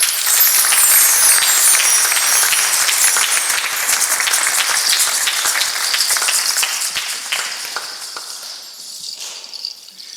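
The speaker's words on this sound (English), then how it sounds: "Can we give them all a round of applause?" Steady applause from a large audience after a talk, loud and continuous for most of the span, then thinning and fading toward the end.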